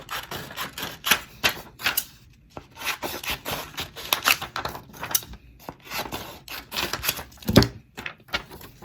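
Paper sigil being cut out by hand, giving a run of crisp, close snips and rustles in an irregular rhythm, with one louder sharp snap near the end and no talking.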